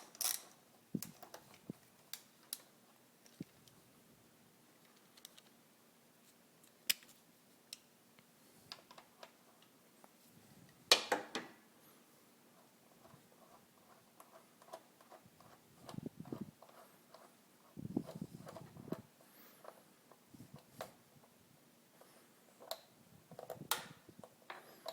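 A ratchet with a 10mm socket unscrews a valve cover bolt on a Saturn engine, giving quiet, scattered clicks and ticks close by, with short pauses between bursts and no talking.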